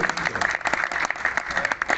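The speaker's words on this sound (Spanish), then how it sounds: "un aplauso a mis patrocinadores" An audience at a press event for a family speed festival applauding sponsors, dense fast overlapping clapping that stays loud and steady throughout, close and busy with no talk over it.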